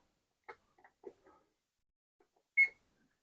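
A kitchen timer is set: a few faint clicks and ticks as its dial is turned, followed by a single short electronic beep, quiet and close.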